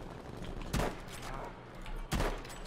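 Gunfire in the shooter Battlefield V, with two sharp, fairly loud shots about a second and a half apart over a steady rumble of battlefield noise.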